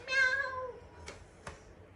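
A single drawn-out cat meow, clear and close, followed by two short faint clicks.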